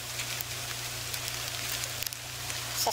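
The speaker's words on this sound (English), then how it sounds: "It's just started raining." Steady patter of rain just beginning to fall in McCarthy, Alaska, a soft continuous hiss with scattered drops, over a low hum throughout.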